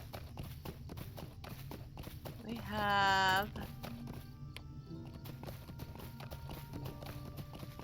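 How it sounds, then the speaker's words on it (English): A horse's hooves clip-clop steadily in the Lord of the Rings Online game, an even rhythm of light thuds throughout, with a brief rising whinny-like tone midway and a voice speaking briefly. "Alright, back on our horse."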